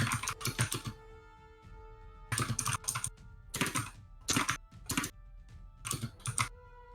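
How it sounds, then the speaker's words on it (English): Someone types on a computer keyboard in bursts of quick key clicks with brief pauses between them, close and fairly quiet, with no talking. "Sorry if you can hear me typing away there."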